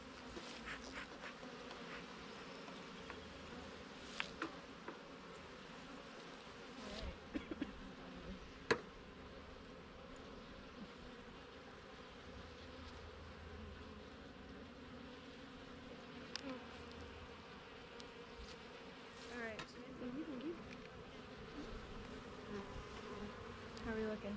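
Honeybees buzz steadily inside an open hive's brood chamber during a mite-monitoring inspection, a dense continuous drone with a few brief clicks and knocks, close and moderately quiet throughout.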